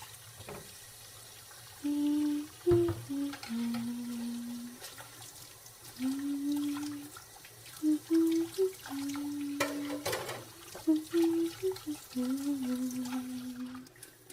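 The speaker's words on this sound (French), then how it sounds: "Encore un coup d'éponge dans l'évier et j'aurai fini." Dishes are washed with a sponge in a kitchen sink under running water, close and soft, with a steady tap flow broken by intermittent swishes and scrubbing.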